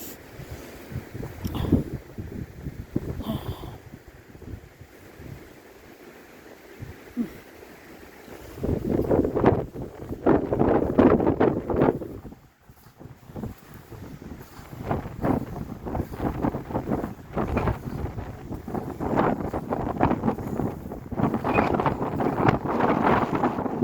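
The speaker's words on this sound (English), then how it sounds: "Is actually the wind." Wind gusting across a cemetery in Colchester, Vermont, rumbling and buffeting the microphone in uneven surges that rise and fall, loud at times, with no talking.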